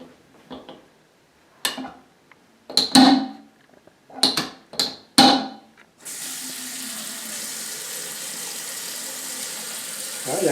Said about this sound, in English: the water does flow nice and smoothly